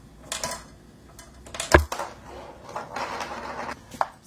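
A marble gives light, dry taps and rattles on a small homemade box snare drum emptied of rice, a few scattered hits with one sharper knock in the middle, quiet and close.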